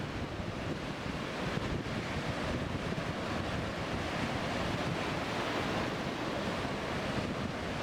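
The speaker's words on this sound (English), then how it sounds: "The wind is blowing hard and the waves are coming fast and higher." Strong wind and waves crash steadily on a beach where fishermen try to launch boats into the sea, a loud, continuous roar of surf mixed with wind buffeting the microphone throughout.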